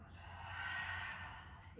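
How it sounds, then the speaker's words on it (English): A single long, breathy exhale during a vinyasa yoga class flow, close and steady, swelling gently and then fading over nearly two seconds with no talk over it. "Breathing out."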